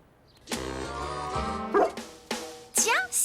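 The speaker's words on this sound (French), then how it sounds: "est-ce que c'est pas le chien de Madame Ogunswallow" A cartoon dog from the French-dubbed Little Lulu series barks and yips several times over a steady music background, ending in high, rising whimpering yelps.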